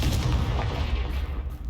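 Confringo fire spell blast in Hogwarts Legacy, a short deep booming explosion with rumbling low-end decay, loud and close, with no talk over it.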